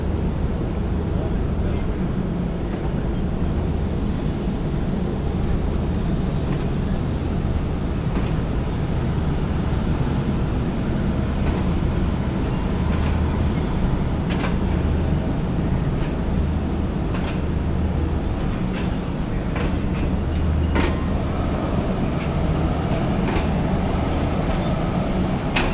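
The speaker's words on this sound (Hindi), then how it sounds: "चले भाई, अब ट्रेन जो है वो रवां दवां हो चुकी है" Tezgam train pulling out of Lala Musa station in Pakistan, a steady loud rumble and rush of wind heard from on board, with faint rhythmic clicks of the wheels running beneath.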